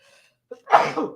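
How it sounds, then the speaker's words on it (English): One sharp, forceful human sneeze, preceded by a brief intake sound, bursting loudly and close against an otherwise quiet background. "That was an aggressive sneeze."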